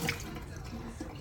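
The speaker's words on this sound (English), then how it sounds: "So right now I'm gonna put water in my pot" Tap water runs into a cooking pot in a home kitchen, a short steady splashing stream heard up close over faint room noise.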